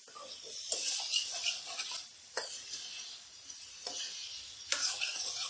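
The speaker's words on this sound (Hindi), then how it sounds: "चिकन डालने के बाद अच्छे से बुनाई करेंगे तकरीबन 3 से 4 मिनट।" Chicken pieces sautéed in a pan for a restaurant-style masala gravy, with a steady close sizzle and bursts of scraping and stirring at intervals.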